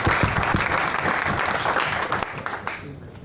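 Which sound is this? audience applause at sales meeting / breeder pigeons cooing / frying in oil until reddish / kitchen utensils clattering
audience applause at sales meeting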